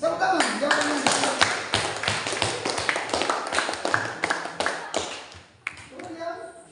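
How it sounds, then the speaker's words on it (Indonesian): Classroom clapping after a correct answer: a dense burst of sharp hand claps from a group of pupils, close and loud, tapering off near the end, with some voices mixed in. "Tepuk tangan. Jawaban yang benar."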